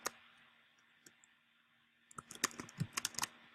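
Typing on a computer keyboard, a short isolated click at the start and a lone tap midway, then a quick burst of close, crisp keystrokes in uneven rhythm over a faint steady hum.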